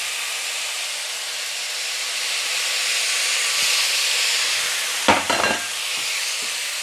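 Mushrooms tipped into a frying pan with pearl barley, chicken and broccoli, a broad steady sizzling hiss that swells slightly, broken by a sharp clatter and scrape as they land and are moved around.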